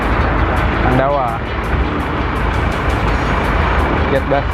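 A bus passes on a busy road at Bulak Kapal in Bekasi, its loud, close engine roar swelling with a brief whining tone, amid steady traffic and voices.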